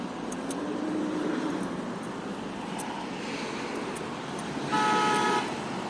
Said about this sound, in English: Folks blowing horns